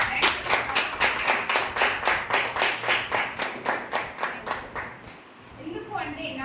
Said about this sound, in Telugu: ఒక్కసారి వాళ్ళందరి కోసము గట్టి చప్పట్లతో వాళ్ళకి థ్యాంక్స్